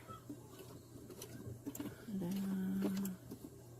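A sewing machine stitches a pillow seam in one short steady run of about a second, close and fairly loud, after a few quieter taps and clicks of positioning the fabric.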